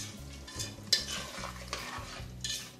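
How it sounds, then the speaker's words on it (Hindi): Masala mixed with fresh cream frying in a pan, a soft sizzle under repeated spatula stirring strokes and light scrapes against the pan, close and fairly quiet, no talking. "मसाला हमारा भुनना शुरू हो गया है"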